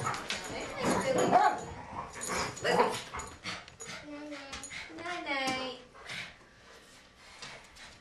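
A dog barks and whimpers in short bursts amid a busy home gathering at Easter, with several people talking over and around it throughout.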